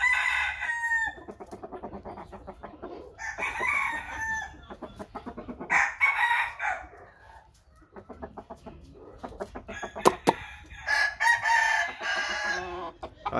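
A rooster of Asil type, bred from a bành-type hen and a giáp-type cock, crows loudly and close in several long drawn-out bouts, with clucking fowl in between and no talking.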